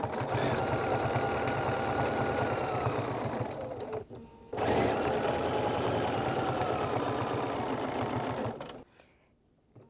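A sewing machine stitches steadily and close while quilting with a ruler. Its even mechanical whir pauses briefly, resumes, then stops near the end.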